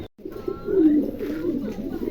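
American lakha pigeons with andulation markings coo in a low, rolling chorus after a brief silent gap, several overlapping calls close by and fairly loud.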